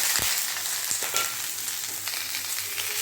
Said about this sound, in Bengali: এবার একসাথে করে এগুলো ভাজা ভাজা করে নেব।